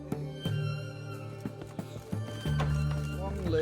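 A horse gallops in The Witcher 3, its hooves thudding in quick, uneven beats under steady music and a voice talking throughout.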